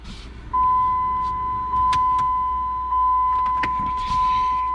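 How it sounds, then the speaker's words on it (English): Ignition key turned on in a Jeep Liberty: a steady electronic warning chime rings continuously, with a faint click and a low hum from the dashboard, the chime sitting clear and close over quiet cabin background. "Let's turn on the key."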